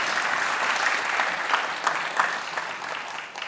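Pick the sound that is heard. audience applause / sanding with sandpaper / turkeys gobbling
audience applause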